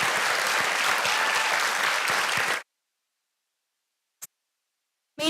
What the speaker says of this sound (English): Would you join me in giving a big round of applause